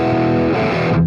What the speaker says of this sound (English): we're actually adding distortion, but it's tightening the amp at the same time